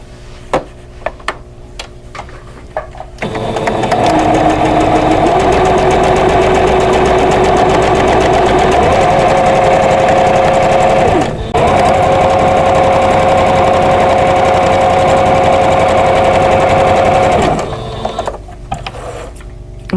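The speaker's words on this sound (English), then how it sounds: "I'm going to nest my seams together and then sew these into a 4 patch block" A sewing machine stitches quilt blocks together into a 4 patch block, running in one long steady whirring burst with a short pause partway through, starting after a few quiet handling clicks and stopping near the end.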